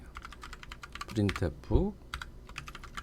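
Rapid clicks of typing on a computer keyboard, light and close, run under a person speaking.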